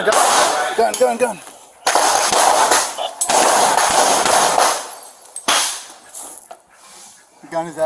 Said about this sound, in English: Here is another view of the gunfire from an officer who opened fire from the backyard of a home adjacent to the property.